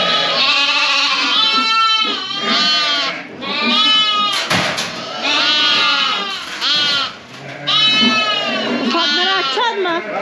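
Lambs bleat loudly and repeatedly in a barn, with several overlapping cries close by in quick succession.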